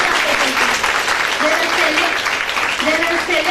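A large audience applauds faculty members in sustained, dense clapping that stays loud throughout, with voices faintly talking underneath.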